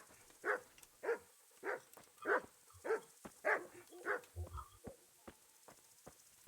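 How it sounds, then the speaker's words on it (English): A guard dog in Kingdom Come: Deliverance barks in a regular string of about eight sharp woofs, then a few softer yips and thuds, fairly close and with no voices over it. "Guard dog, by the way."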